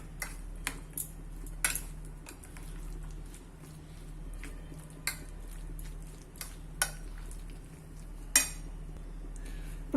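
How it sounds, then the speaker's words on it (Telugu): Mashed brinjal being stirred together with finely chopped onions and green chillies for vankaya bajji, a utensil clinking and scraping against a bowl in irregular taps over a steady low kitchen hum. "ఇప్పుడు దీంట్లోనే సన్నగా కట్ చేసుకున్న ఆనియన్స్, సన్నగా కట్ చేసుకున్న పచ్చిమిర్చి, ఇవన్నీ ఒకసారి బాగా కలుపుకోవాలి"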